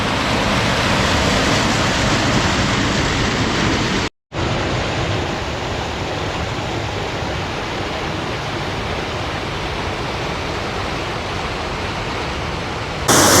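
Heavy water cascades in a constant roaring rush at Ladybower Reservoir, a dense, loud, unbroken wash with one brief cut, and no voices.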